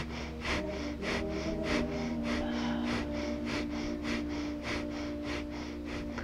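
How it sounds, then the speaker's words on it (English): Rapid rhythmic breath-of-fire yoga breathing, a run of about a dozen forceful nasal exhales at an even quick pace over a steady low background hum. "And breath of fire."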